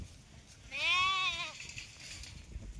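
A single sheep bleats once from a flock penned inside a fenced enclosure at night, a clear wavering cry of about a second over faint background noise.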